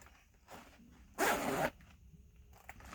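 A single quick zipper pull on a boot, a loud rasping zip lasting about half a second, preceded by a softer scrape and followed by quiet.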